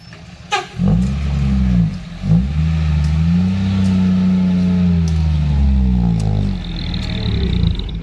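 Vehicle engine with a leaking front tyre revs loudly and close, a sharp burst near the start followed by a sustained steady drone that holds for several seconds with a rising tonal whine.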